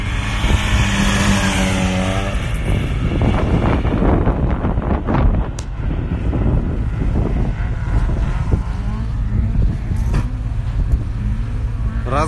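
Drift car accelerating downhill on a winter track at a drift battle, engine revving and rising in pitch, then settling into a steady drone with wind buffeting the microphone; loud and close.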